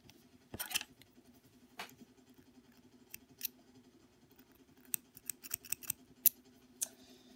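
Scissors snip the tag end of thread: a handful of crisp, quiet metallic clicks and cuts, spaced irregularly over a low steady background hum.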